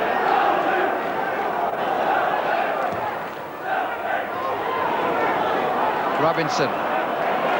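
A Derby County home crowd roars steadily at a 1987-88 League Cup match against Southend United, a loud continuous stadium swell that dips briefly before surging again, under a commentator's voice.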